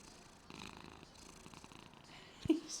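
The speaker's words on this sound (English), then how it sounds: "He's just always purring. Always." A cat purrs softly and close up, a low rhythmic rumbling in steady pulses, with a brief louder bump near the end.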